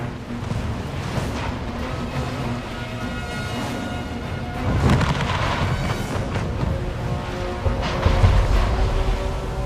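Ships trading cannon fire in the strategy game Anno 1800, a dense barrage of booms and rumbling blasts layered over continuous battle noise, with heavier volleys swelling midway and near the end.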